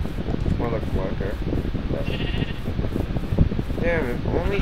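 Several sheep bleat in Minecraft, short wavering cries recurring through the clip over a steady game background, with a voice talking alongside.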